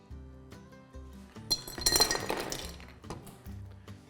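Ice cubes clink and tumble into a glass while masala chaas is being made, a cluster of bright glassy knocks and rattles peaking in the middle of the clip, fairly quiet with a low hum behind.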